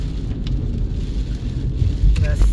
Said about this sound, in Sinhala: Guys, වහිනවා.